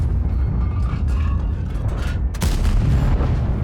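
A tank cannon fires in World of Tanks, a heavy boom over a constant low engine rumble, with a second, louder blast near the end, close and loud.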